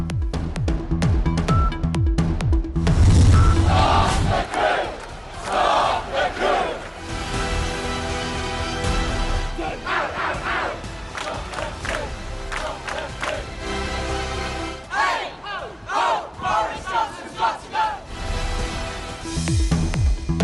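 A large protest crowd in Britain shouts and chants slogans against Prime Minister Boris Johnson in rising and falling bursts, loud and rowdy, with rhythmic surges of voices.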